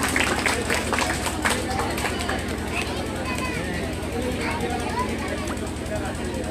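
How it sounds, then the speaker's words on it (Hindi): Applause from an audience at a Teacher's Day celebration in a school setting, dense steady clapping mixed with crowd murmur and chatter, sustained loudly throughout. "एक बार जोरदार तालियां हो जाए।"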